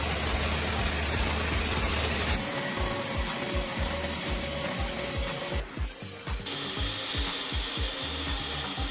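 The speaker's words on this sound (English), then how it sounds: "The hanger bending cycle is highly optimized." Factory hanger bending machine cycling continuously, a dense scraping and grinding sound with a steady rhythmic ratcheting clatter, loud and close throughout with no talk.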